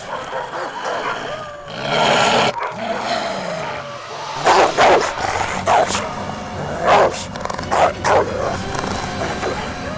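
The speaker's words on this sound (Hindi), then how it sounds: "ये तुम्हारे बीमार कुत्ते?" Several dogs barking loudly and near in sharp repeated bursts, some yips among them, over a busy background of other noise.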